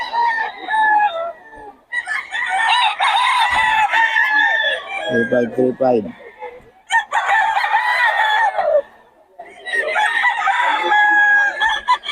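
Rooster crows ring out repeatedly among clucking fowl, loud and close, with a voice talking over much of it.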